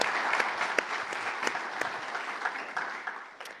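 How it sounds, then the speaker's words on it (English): An audience at a summit opening ceremony applauds to welcome panel speakers, a steady wash of many hands clapping with a few sharper claps standing out, fairly near and continuous, gradually thinning toward the end. "So a round of applause for them, please."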